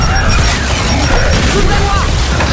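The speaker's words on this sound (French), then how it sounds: "Gare à l'explosion !" A loud explosion in the video game Gears 5 during Horde mode, heard as a sustained, dense blast that fills the whole clip.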